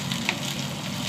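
Green chillies sizzle in hot oil with browned garlic in a pan, giving a soft, steady crackle that holds throughout with no talking.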